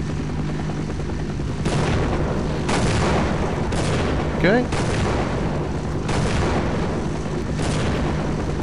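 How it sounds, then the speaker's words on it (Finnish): Cannon fire and explosions aimed at a helicopter in the video game Half-Life, several loud broadband booms at irregular intervals over a steady rotor-like drone, with a brief spoken word. "Ammutaan toi helikopteri alas, jos tällä pystyy sen tekemään."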